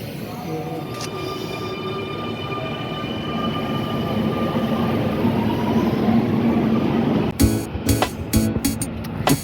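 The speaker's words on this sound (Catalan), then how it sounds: "Tenim aquí un metro, un 2000... No, 2000 o... No, 2100." Barcelona metro train, 2100 series, arriving at a Line 4 station toward Trinitat Nova: a rising rumble builds over several seconds with a high whine, then sharp clanks and brake hisses as it comes to a stop.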